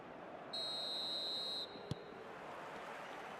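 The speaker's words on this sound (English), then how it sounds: "There's the whistle then to start the second half." A referee's whistle in the eFootball video game blows one sustained, shrill blast of about a second to start the second half, followed by a faint click over a steady background hum.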